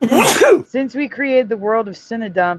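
A single loud sneeze bursts out at the start, followed right away by someone speaking.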